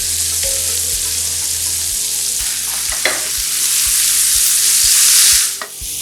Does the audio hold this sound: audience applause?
no